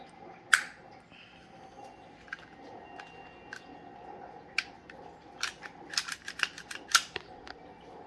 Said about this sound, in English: you put the plunger back on the spring, push that down, slide that in